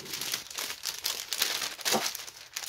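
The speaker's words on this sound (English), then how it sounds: "I know, more crinkling involved." Plastic packaging from a floss purchase crinkles and rustles continuously up close, with bursts of sharp crackling and no speech.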